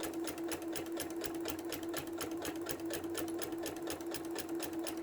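A sewing machine runs steadily while backstitching to lock the seams on a rag quilt, its rapid needle strokes forming an even, continuous mechanical hum at moderate speed with no talking.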